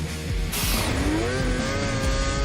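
Highly modified 160-horsepower snowmobile in the Utah backwoods, engine roaring loud and close with a rising whine as it revs hard, then holding a strained high pitch.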